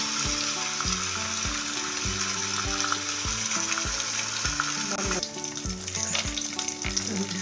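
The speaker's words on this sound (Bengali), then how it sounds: "এই যে দেখেন ডিম ভাজতেছে" Duck eggs frying in a pan give a constant bright sizzle and crackle, close and steady, with scattered light clinks and scrapes, and music playing underneath throughout.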